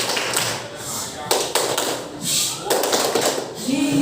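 A classroom of pupils performs the 'tepuk diam' clapping routine, a few bursts of sharp, close rhythmic claps and taps broken by pauses, mixed with children's voices and a teacher talking.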